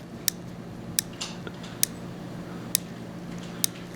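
A .22 short rimfire firearm's action cycling, giving five sharp, evenly spaced metallic clicks, close and distinct over a quiet background.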